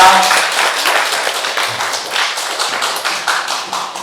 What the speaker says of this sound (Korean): 오늘 너무나 귀한 강의 해주신 우리 주홍 작가님께 뜨거운 박수 부탁드립니다